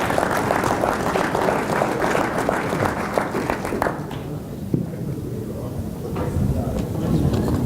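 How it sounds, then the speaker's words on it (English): An audience at an MS-PETS event in 2019 claps for volunteers called up to the front of the room. The applause is steady and dense for about four seconds, then thins into scattered claps and room noise. "Give these folks a nice round of applause"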